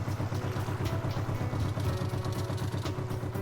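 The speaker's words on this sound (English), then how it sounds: "Same ferry I'd ridden here while idling in the dock." In a video game, a ferry's low, steady engine idles at a dock with a rhythmic throbbing pulse and light mechanical clatter, sounding close and continuous.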